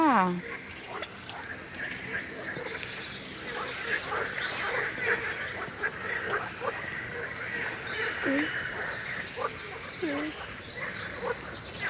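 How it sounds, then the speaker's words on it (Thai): Small frogs call near a pond on a warm afternoon, many short croaking chirps overlapping in a steady chorus, while someone speaks over them. "ได้เห็นเขียดเสียงดัง"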